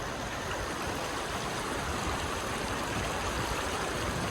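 Cold flowing stream water rushing steadily and evenly, a constant close hiss of current with no voices.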